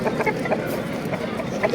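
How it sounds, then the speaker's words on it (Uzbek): A large rooster clucks amid the busy crowd noise of an Uzbek animal bazaar in Namangan, with short calls rising over the steady market hubbub. "katta xo'roz ekan lekin"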